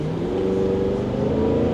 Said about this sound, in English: again, no V mode, exhaust sounds awesome